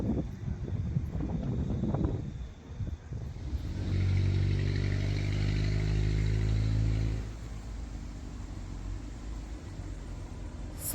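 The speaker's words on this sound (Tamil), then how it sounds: "காற்றும் பார்த்திங்கன்னா நல்லா அடிக்குது." Strong cyclone wind at night in Northland, New Zealand, rushes and buffets the microphone throughout, with a louder rumbling swell in the middle as a vehicle seems to pass.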